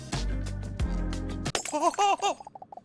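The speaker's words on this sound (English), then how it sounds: "The jar shatters on the ground with a loud clatter." A glass jar shatters on the ground in a video game: loud heavy impacts give way to a burst of breaking and clinking shards that tinkle down into rapid small chinks.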